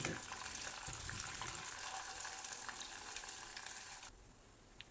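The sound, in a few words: urad dal frying in sesame oil in clay pot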